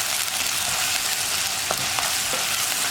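Curry leaves, ginger and onion sauté in hot oil for a fish chili curry, giving a steady, dense sizzle throughout with a few brief scraping stirs near the end.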